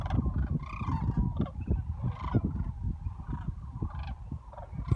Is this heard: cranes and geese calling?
yes